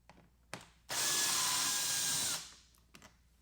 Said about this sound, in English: we're going to remove the last 2 remaining screws out of the hood